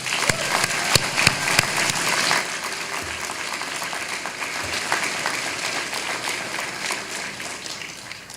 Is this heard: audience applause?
yes